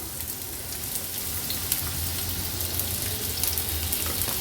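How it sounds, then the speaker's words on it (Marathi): A large, finely chopped onion fries in two tablespoons of hot oil for a paneer and peas dish, producing a dense, continuous close sizzle that crackles evenly throughout. "कांदा तेलावर छान शिजवून घ्यायचा आहे"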